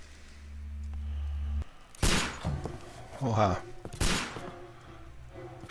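Gunshots in the video game Sherlock Holmes: Crimes and Punishments: two loud, sharp blasts about two seconds apart with echoing tails, preceded by a low hum, while a man briefly exclaims.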